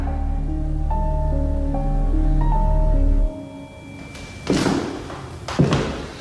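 Steady droning tones hold for a few seconds before a door is pulled open and slammed, giving two loud, close thuds about a second apart.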